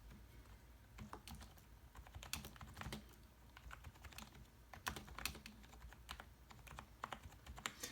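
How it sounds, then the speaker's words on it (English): Quiet, rapid typing on a RisoPhy light-up gaming keyboard, soft non-clicky keystrokes tapping in irregular bursts at close range. "I'm going to type something just so you can see the responsiveness."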